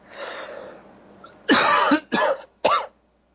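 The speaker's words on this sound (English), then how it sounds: "The coughing comes." Three loud, harsh coughs in quick succession follow a quieter stretch of low background noise, close to the microphone.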